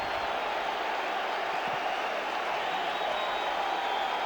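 A stadium crowd at the 1995 ALDS Game 2 between the Seattle Mariners and New York Yankees roars and cheers in a steady, dense wash of noise that stays loud and unbroken throughout.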